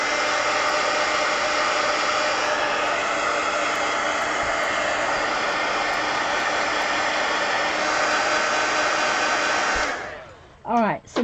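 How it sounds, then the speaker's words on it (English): A heat gun blows hot air over a coloring page to dry ink, giving a steady, loud rushing whoosh for about ten seconds. It then winds down and stops, followed by a couple of brief handling sounds. "I'm going to go ahead and take my heat gun and hit that with the heat gun."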